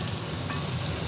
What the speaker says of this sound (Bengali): মাছগুলো আমার এখানে ভাজা হয়ে গেছে।